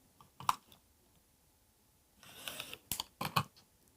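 Fabric is cut into a 6.5 inch quilting square for a mini quilt, with a few short, faint crisp snips and a brief rustle of cloth, close and quiet with no talk.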